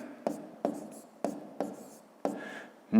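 A pen writes numbers by hand on paper in short scratchy strokes, about five distinct strokes spaced roughly half a second apart, close and clear in a quiet room.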